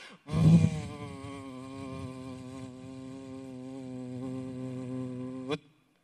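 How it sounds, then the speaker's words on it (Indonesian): A steady, close droning buzz with a wavering pitch runs for several seconds, starting abruptly and cutting off sharply near the end. "Tiba-tiba satu lalat lagi lebih besar masuk lagi."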